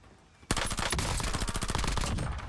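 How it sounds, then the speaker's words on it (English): Rapid automatic gunfire in Call of Duty Warzone erupts after a brief quiet moment and runs as a loud, dense burst of shots that continues for about two seconds. "Taking effective fire."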